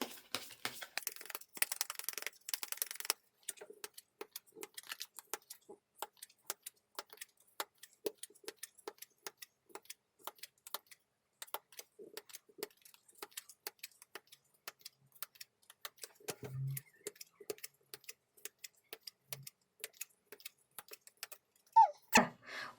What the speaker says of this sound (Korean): 자, 진짜 실시간에 여러분들의 기운을 받아서 카드 셔플하겠습니다